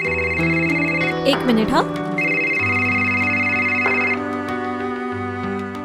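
A telephone bell rings steadily in a Hindi film scene, its high ringing tones repeating under music and background noise, with a brief voice cutting in.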